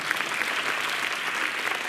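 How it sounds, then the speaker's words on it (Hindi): An audience at a state dance competition claps continuously, a dense, even patter of many hands filling the short stretch without pause. "फिर तालियां।"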